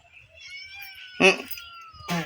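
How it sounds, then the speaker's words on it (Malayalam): A cat's meows sound close and brief, a couple of short cries separated by quiet background with faint household noise. "മിന്നു പൂച്ച അടിയിലുണ്ട്"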